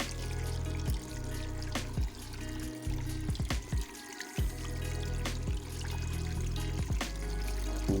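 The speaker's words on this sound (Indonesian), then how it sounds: "jalur air yang mengalir deras ini" Water pours and trickles steadily nearby down a small waterfall in a paludarium, a continuous gentle splashing flow.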